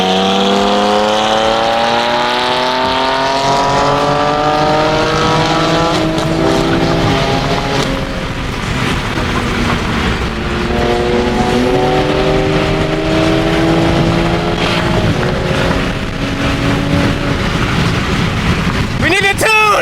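Straight-piped Ferrari 348 roaring along a Miami street, loud revs climbing and dropping through repeated gear pulls with wind buffeting the microphone, and people talking over the engine.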